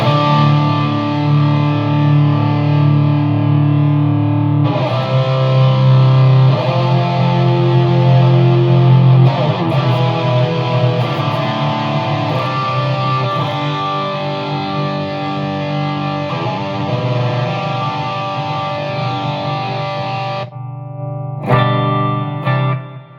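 An electric guitar plays through a non-valve amp head in noisy mode, giving loud, heavily distorted sustained chords with effects. It runs for about twenty seconds, then drops to scrapes and handling noise, with no talk.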